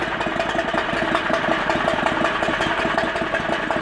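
A 670 cc go-kart engine idles with a rapid, even, rattly putter through a loud custom exhaust made from a hand railing and flex pipe, steady and close throughout.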